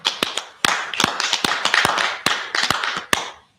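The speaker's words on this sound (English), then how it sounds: "clap it up." Live audience clapping in a cheering-style burst of sharp, dense hand claps lasting several seconds, loud and close, with scattered individual claps standing out before fading at the end.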